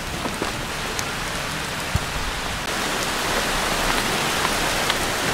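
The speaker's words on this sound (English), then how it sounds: "Ah, lovely, it's starting to rain." Rain falling outdoors in an old French village, a continuous dense patter of drops on surfaces with a few sharper individual taps, growing slightly heavier midway, with no voices.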